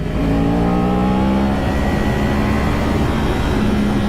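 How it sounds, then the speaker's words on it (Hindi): A Kawasaki 10R superbike engine revs hard in first gear, a loud, close, continuous engine roar with rising and falling pitch lasting throughout, with no talking. "10R को पेल रही है भाई, पहले गियर में ये बहुत पावर है"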